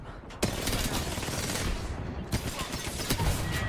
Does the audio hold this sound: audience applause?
no